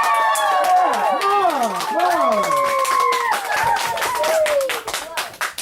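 Elementary school second graders clap and cheer together in a classroom, steady applause mixed with high excited shouts and voices throughout, fading toward the end.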